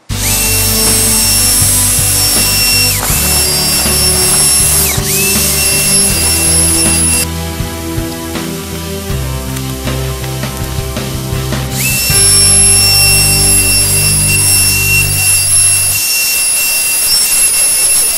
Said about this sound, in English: So now it's time to take the router.